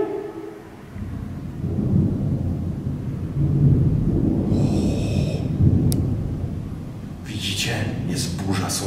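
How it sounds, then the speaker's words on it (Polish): Thunder rumbles through a stormy night outside an abandoned hospital in Mokrzeszów, a sustained low roll that swells and fades, with faint hissing and brief crackles over it. "Jest burza, są wyładowania."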